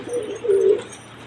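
Pigeons of a Madrasi pair coo close by, two soft, low throaty calls in quick succession, the second longer and fuller, with no talking.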